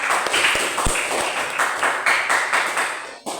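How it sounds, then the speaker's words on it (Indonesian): A school class clapping their hands during a math lesson, a short burst of rapid close claps with a few sharper individual slaps before it cuts off abruptly. "tepuk tangan untuk kalian"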